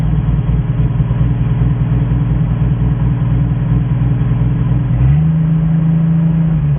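Ford F350 truck engine, restarted after sitting for 20 years, runs steadily with a loud low rumble, then revs up sharply near the end and holds a higher pitch; no talking.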